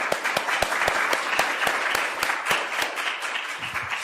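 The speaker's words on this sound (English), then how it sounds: "Let's give them a good applause." An audience at a panel event on the Icelandic constitution gives the speakers a round of applause: dense, steady clapping from many hands fills the room at moderate loudness, with no talking over it.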